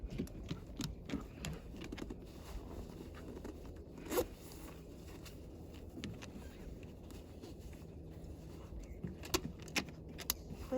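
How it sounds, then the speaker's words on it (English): A life vest is zipped up at close range for a beginner paddling outing, with a run of scratchy zipper pulls and small clicks and rustles of straps, fairly quiet against a faint outdoor background. "zip it up here."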